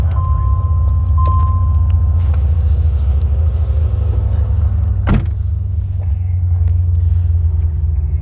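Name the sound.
1985 Corvette with 4+3 transmission driving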